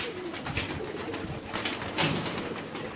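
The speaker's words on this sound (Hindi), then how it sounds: "गोल्डन बटेरे और छत वाले कबूतर जो हैं" Rooftop pigeons of a Golden and local roof-pigeon line cooing close by, a steady throaty murmur with brief louder swells over background noise.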